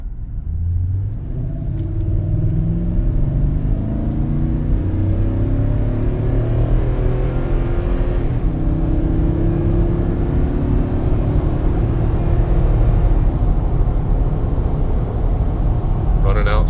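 A 2016 Toyota Sequoia Platinum cruising at about 80 mph gives a steady, loud low rumble of road and engine noise with tyre roar throughout, while a voice talks over it.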